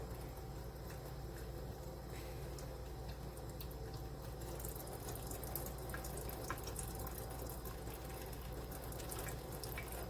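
Steady trickle of filtered water running and dripping from an Aquagear water filter pitcher, a continuous low splashing flow with small irregular drips on top.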